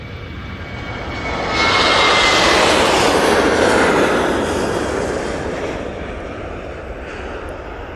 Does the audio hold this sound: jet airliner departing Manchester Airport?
yes